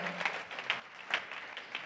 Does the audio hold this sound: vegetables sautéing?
no